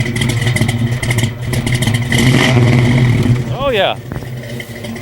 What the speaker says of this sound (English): Those big motors with some good exhaust on them always got that distinctive big block sound